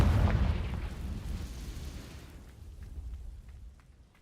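A Confringo spell explosion in a video game opens with a loud, sharp blast, then fades into a rumbling, crackling tail over several seconds.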